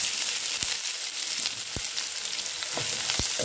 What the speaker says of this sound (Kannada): ನೋಡಿ, ಈರುಳ್ಳಿ ಎಲ್ಲ ಚೆನ್ನಾಗಿ ಫ್ರೈ ಆಗಿದೆ